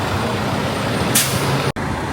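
Tow truck on a Manhattan street, engine rumbling steadily up close with a single sharp hiss of the air brakes partway through, then a brief dropout.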